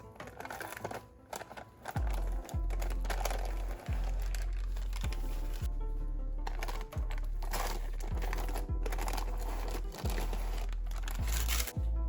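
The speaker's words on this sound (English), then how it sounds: "I'm going to start by removing the parchment paper on the sides." Parchment paper peeled from the sides of a peaches and cream pound cake, soft crinkling and tearing rustles repeated over several seconds, quiet and close in a kitchen.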